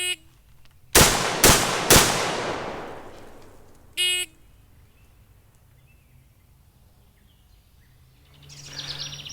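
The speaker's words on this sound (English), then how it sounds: "On the signal to fire, the shooter has to fire 3 shots into the body of the target" A SOCOM16 rifle fires three quick, loud shots at a target, sharp cracks about half a second apart echoing away, followed by a short metallic rattle and faint birdsong.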